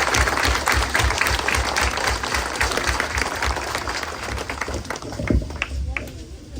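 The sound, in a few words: applause for Santo Tomás at a neighborhood mass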